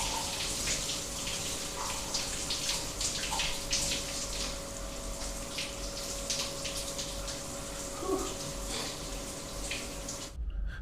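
An old red rainfall shower in a cheap Leeds city-centre hotel runs steadily, a dense, even hiss of falling water with a faint tonal hum beneath, close and continuous until it cuts off near the end.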